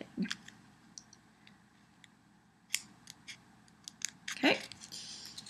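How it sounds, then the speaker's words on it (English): Scissors snipping through a Jamberry nail wrap, heard as a handful of crisp, close cutting clicks scattered over a quiet background, with one longer snip near the end. "So take my handy dandy scissors and I am cutting."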